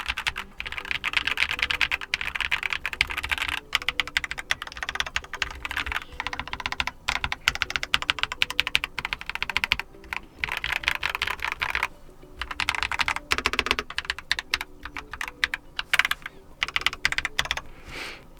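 Rapid, continuous typing on a Keychron K2 mechanical keyboard resting on a thin, hollow table, with dense clacks and a slight thunk, close and fairly loud without pauses.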